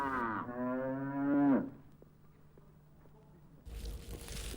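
A bull calf at a zoo gives one long, loud moo with a falling then rising pitch, followed by quieter rustling and a burst of ambient noise near the end.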